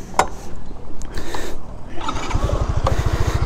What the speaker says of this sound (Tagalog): pag binaba natin tong side stand, mamamatay yung makina